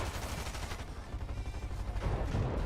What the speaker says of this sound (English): Oh, nice shot onto Squish